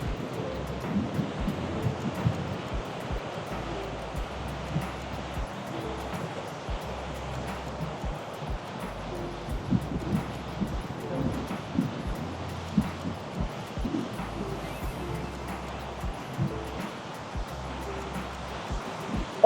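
Surf rolling onto a Navarre, Florida beach on a red flag day, a steady wash of waves with wind buffeting the microphone throughout, and no clear talk.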